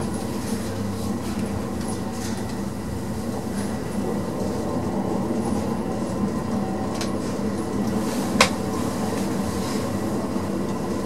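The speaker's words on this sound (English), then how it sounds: "Can you hear the train?" A train rumbles steadily in the background, heard from a lift in Frankfurt, with a continuous low roar and occasional faint clicks and a brief sharp squeak.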